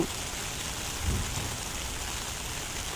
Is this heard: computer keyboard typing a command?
no